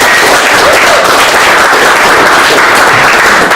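A crowd at a magic show applauds loudly and continuously, thick overlapping clapping from many hands filling the room.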